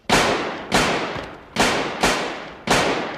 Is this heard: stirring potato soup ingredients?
no